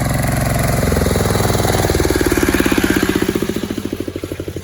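A FORTE walk-behind tractor harrowing a potato field, its engine chugging loudly and nearby in a steady pulsing rhythm that shifts pitch and becomes more distinctly thumping as it fades slightly toward the end.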